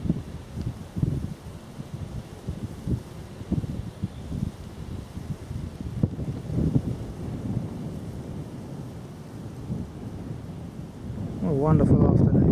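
Breezy wind on an afternoon countryside walk along the Shipwrights' Way near Petersfield, gusting and buffeting the microphone in uneven bursts throughout, moderately loud with no clear talk.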